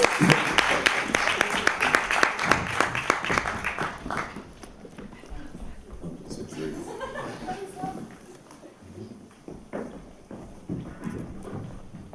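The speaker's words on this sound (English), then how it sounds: "Please do a big round of applause." A live audience at a Screen.dance 2019 artist presentation bursts into a loud, dense round of applause that fades after about four seconds, leaving quieter room noise and murmured talk.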